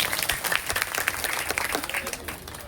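An audience at a Nagara Naam Sangha gathering breaks into dense, sustained clapping, a steady wash of many hands close by with a faint murmur of voices beneath.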